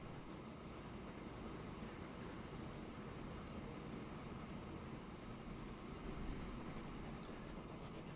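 Trains in the video game Transport Fever 2 rumble along as a faint, steady rolling noise, with no talking.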